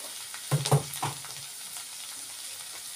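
Rice fries in a pan with coriander powder, turmeric and chilli powder, a soft sizzle with a few quick scraping stirs near the start, then a faint steady crackle.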